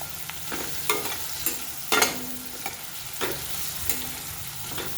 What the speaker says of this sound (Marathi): छान असा हा कांदा आपल्याला मऊ होईपर्यंत परतून घ्यायचं आहे